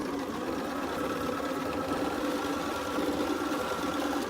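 A quilting sewing machine stitches fabric pieces in one continuous close mechanical whir with a steady rapid needle rhythm, loud and uninterrupted.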